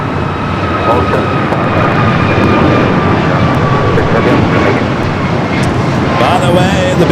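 A jet airliner takes off from runway 25 right at Los Angeles International Airport, its engine roar a steady, loud wash that holds throughout, with a voice speaking over it.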